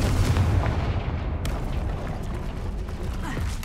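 Fire spell explosion from the video game Hogwarts Legacy: a loud, dense burst of blast noise and crackling debris that rolls on steadily for several seconds, with no talking.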